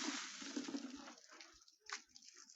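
Water gushes steadily from a mountain spring as containers are filled beside a busy pilgrim route near Rishikesh, a broad rushing flow that fades toward the end, with faint voices nearby.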